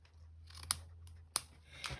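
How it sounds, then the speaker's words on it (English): Scissors snipping paper while making a fold-top gift bag, two crisp close cuts with a third softer snip at the end, over a quiet low hum. "And then I'm going to snip."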